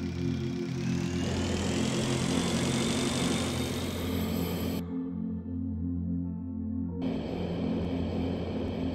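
A motorbike engine in the space-survival video game Breathedge, a steady droning idle hum with a brief muffled dip in the middle before resuming, no talk.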